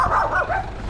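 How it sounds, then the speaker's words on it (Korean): Dogs barking across a village along a coastal walking trail in Jeju, a loud, close, continuous burst of overlapping barks and yelps with no talk. "그런 낯선 개의 등장 때문에 온 동네 개들이 짖고 있어요"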